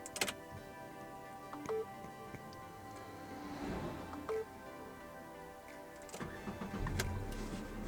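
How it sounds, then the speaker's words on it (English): A 2019 Renault Kwid RXT O hatchback with an 800cc engine is started from inside the cabin, giving a brief starter crank around the middle and a subdued idle hum with faint ticking. "So we fire up the engine,"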